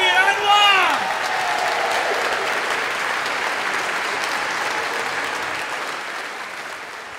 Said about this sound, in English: I feel like I'm a member of One Direction with that applause.